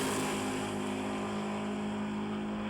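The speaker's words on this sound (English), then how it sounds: "Nice classic little drag race there." Drag race cars at Bradenton, Florida, roar steadily at the top end of their run, a sustained, fairly faint engine drone holding without a break for a few seconds.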